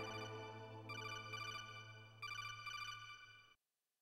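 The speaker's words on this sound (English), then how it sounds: "Got a phone call." A phone ringtone in the Metal Gear Solid video game rings in repeated electronic bursts over a steady low hum, then cuts off abruptly into silence.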